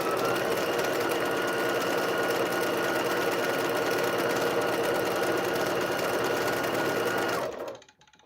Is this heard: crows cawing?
no